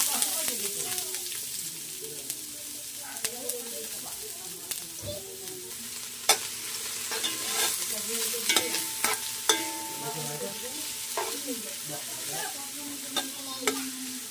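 Onion, garlic and ginger sauté in a pan with a steady close sizzle, broken by scraping stirs and sharp clicks of the utensil against the pan, with faint talk at times.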